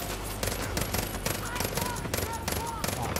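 Rapid SMG gunfire from the video game Far Cry New Dawn rattles in dense bursts throughout, loud and close, with game sounds layered underneath.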